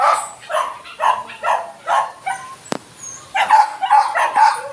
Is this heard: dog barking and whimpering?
yes